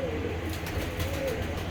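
Champion racing pigeons coo in a low, steady rumble at a pigeon show, close by and continuous over a busy background murmur.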